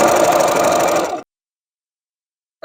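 A sewing machine with a walking foot stitching through thick sweatshirt fabric, a brief fast mechanical whirring run of about a second that stops abruptly, followed by silence.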